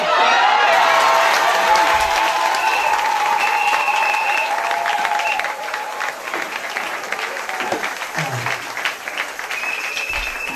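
Sustained applause from a church congregation at a Sunday school service, steady and fairly loud, easing slightly partway through, with a few voices underneath.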